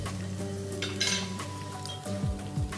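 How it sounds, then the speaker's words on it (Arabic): Green onion, garlic and ginger sauté in a hot pan for a pasta dish, with a steady close sizzle and light scrapes and clinks of a utensil stirring against the pan. "وبشوحه كله مع بعض"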